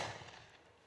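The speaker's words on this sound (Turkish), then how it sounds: "Şimdi de seramik slug testleri UTS 15 ile." UTS 15 shotgun firing a ceramic slug, a single sharp outdoor blast that decays quickly into a fading echo.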